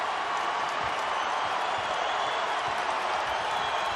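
Sellout basketball crowd at the Wells Fargo Center during a Virginia vs Villanova game, a continuous dense roar of cheering and applause filling the arena.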